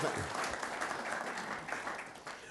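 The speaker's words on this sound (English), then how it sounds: "You were applauding the question." Applause from an audience at a Conservative Party leadership hustings with Boris Johnson and Jeremy Hunt, a steady dense clapping that holds at moderate loudness for a few seconds.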